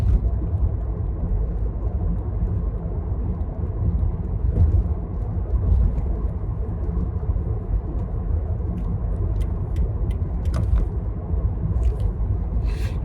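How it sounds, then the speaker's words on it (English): Steady low road rumble fills a car cabin while driving, a constant close drone with no talking, joined near the end by a few faint light clicks. "Enjoy the car ASMR."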